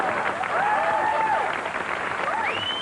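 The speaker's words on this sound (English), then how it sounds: "Kind of a surprise applause there," Studio audience applause on a late-night talk show stage, a steady dense wash of clapping with whoops and cheers rising over it, close and loud throughout.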